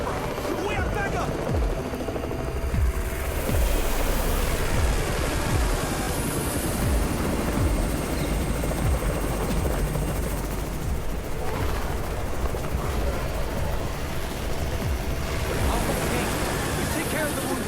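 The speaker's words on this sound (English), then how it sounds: "It's the Raven's chopper!" Helicopter rotor thudding in the zombie survival game Undawn, arriving as backup amid gunfire and chaotic combat noise, a steady loud wash with scattered shots and voices over it.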